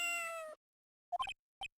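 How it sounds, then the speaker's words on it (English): Cat meows from the end of a transmission in the Phoenix Wright: Justice for All video game, with a short musical tone first and then two quick clear meows close up after a brief silence. "It sounded like a cat."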